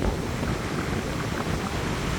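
Messy ocean waves break at a surf spot in Bali, a continuous rolling wash of surf mixed with wind buffeting the microphone, steady and full without pauses.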